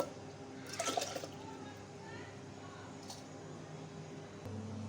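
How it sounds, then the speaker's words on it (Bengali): Two cups of water poured over washed broken rice in a clay cooking pot, a brief splashing gush lasting under a second, then quiet background hum. "দুই কাপ পানি নিয়েছি পানি দিয়ে দেবো"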